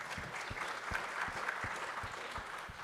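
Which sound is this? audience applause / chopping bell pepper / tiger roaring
audience applause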